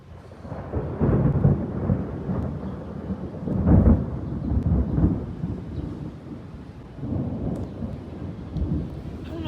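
A thunderstorm near Reagan National Airport, with several deep rumbling rolls of thunder swelling and fading over steady rain, recorded fairly close and loud.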